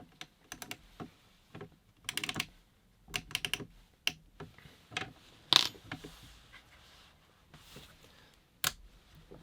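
Screws being tightened on a Holosun HE515CT-GR green dot rifle sight mount, sparse close clicks and short metallic ticks scattered over several seconds with quiet gaps, no voice.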